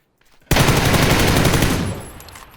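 Automatic gunfire in PUBG, a loud sustained burst of rapid shots starting abruptly after brief quiet and tailing off over about two seconds.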